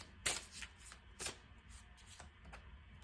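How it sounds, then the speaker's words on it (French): Tarot cards are riffled and shuffled in several quick bursts, two of them sharper and louder. Softer card slides and taps fill the gaps in a quiet room, and no one speaks. "J'ai envie de prendre une toute dernière carte de tarot"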